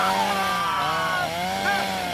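A chainsaw drones loudly and continuously, its pitch wavering up and down as the engine revs and eases.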